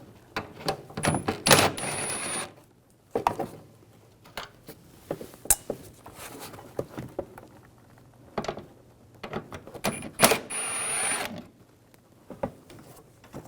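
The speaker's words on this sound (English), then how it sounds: "Underneath here, there's two screws. We're going to take those out, use a 8mm socket." Two screws being backed out with an 8mm socket under the front fender well of a 2006-2010 BMW 550i: bursts of close mechanical ratcheting and whirring in several short runs, separated by small clicks and handling noises.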